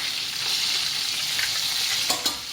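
Steady, loud sizzling of meatballs frying in hot oil in a frying pan, with a couple of sharper crackles near the end.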